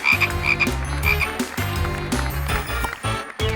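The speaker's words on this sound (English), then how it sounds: "of course it's a frog" Repeated deep, rhythmic frog croaks, close and loud, pulsing steadily in quick successive bursts.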